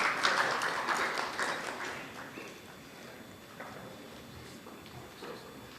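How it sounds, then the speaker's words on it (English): Applause for a guest of honor at a legal conclave and awards ceremony, a dense wash of clapping that is fairly loud at first and fades gradually to scattered claps. "A thunderous round of applause, ladies and gentlemen, for our guest of honor"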